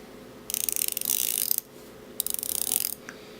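Omega Seamaster Chronograph 2225.80 watch bezel being turned, giving two bursts of rapid, crisp ratchet clicks close up, with a brief pause between turns and a single faint click at the end.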